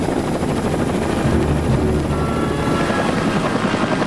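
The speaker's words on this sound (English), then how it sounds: "the helicopter sweeps the waves with searchlights" A Coast Guard rescue helicopter flying over stormy waves, a loud, steady rotor roar that fills the whole stretch without letting up.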